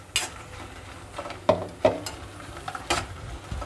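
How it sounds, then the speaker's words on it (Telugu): Dried red chillies fry in hot oil in a pan for a mint spice powder, with a steady low sizzle broken by a few sharp scrapes and clatters of stirring. "ఎండుమిరపకాయలు ఎరుపు రంగు వచ్చే వరకు వేయించుకోవాలి"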